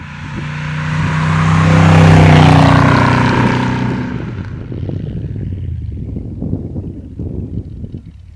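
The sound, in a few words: Iso Grifo 300 GL with Chevy engine driving up a 20% slope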